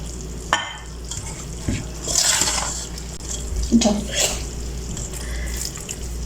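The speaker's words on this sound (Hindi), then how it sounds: "अब हम इसमें थोड़ा थोड़ा पानी ऐड करके तो इसको बनाएंगे।" Water is poured bit by bit into pakora batter for kadhi pakora and stirred in, giving splashy trickling and wet mixing sounds that come and go close by in a home kitchen.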